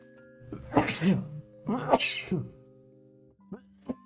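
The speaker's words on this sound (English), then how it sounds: "I just had a sneeze." A person sneezes twice in quick succession, close and loud, followed by a couple of softer short exhalations.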